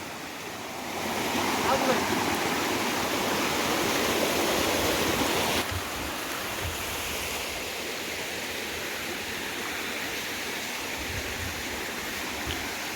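Waterfall in a hill forest of Mayurbhanj, Odisha, a steady broadband rush of falling water that stays loud and continuous throughout, slightly stronger in the opening seconds.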